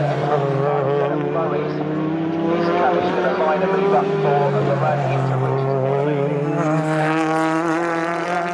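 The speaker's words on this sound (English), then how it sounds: "those cars there are about to come over the start finish line." British Touring Cars race at Snetterton, engines roaring loudly and steadily as several cars pass close together, with rising and falling engine pitch and a race commentator talking over them.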